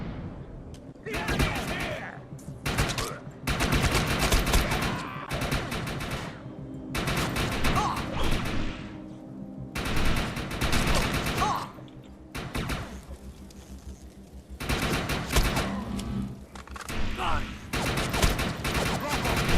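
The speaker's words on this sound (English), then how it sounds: "So good, I got an assault rifle now." Bursts of assault rifle fire from the video game Defiance 2050 crack out in repeated rapid volleys separated by short gaps, loud and close, with a player talking in between.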